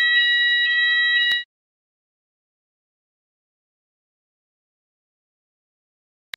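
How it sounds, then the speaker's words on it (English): A fire alarm test in court chambers: a steady multi-tone electronic alarm sounds clearly for over a second, then cuts off abruptly into silence, with a faint click near the end. "Is that your fire alarm? It is, Your Honour. Your Honour, my apologies, Chamber's fire alarm test."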